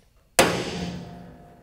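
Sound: hammer hitting a transfer punch bit

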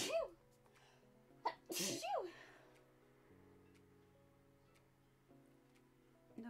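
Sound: sneeze

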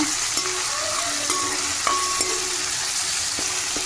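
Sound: freshly ground ginger garlic paste frying in a pan

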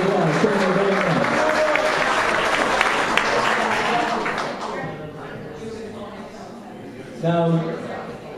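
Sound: concert audience applause

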